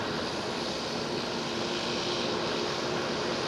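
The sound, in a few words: Delta Airlines Airbus A330neo airliner at Schiphol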